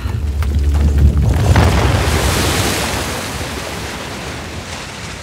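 Rushing water released in the Uncharted: The Lost Legacy video game, a loud booming surge that swells in the first seconds then settles into a steady, broad roar that slowly fades, with no talk.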